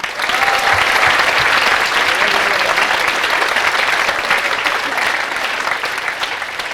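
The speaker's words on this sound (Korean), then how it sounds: "학생회에 대해서 제가 좀 간단히 한테 박수 한번 줍시다." Freshman orientation audience giving the student council a big round of applause, dense sustained clapping from a large crowd that stays loud and full throughout.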